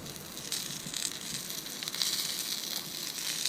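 Pork and apple sausages frying over a camp stove at a wild campsite give off a close, steady crackling sizzle with scattered sharper pops, heard alone with no talk.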